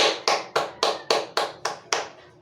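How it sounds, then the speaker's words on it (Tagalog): Students clap for themselves in a classroom, eight sharp, evenly spaced claps ringing out clearly with no talk over them. "bigyan nyo ng palakpak ang inyong sarili"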